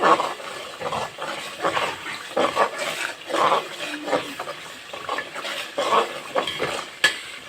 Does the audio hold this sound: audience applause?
no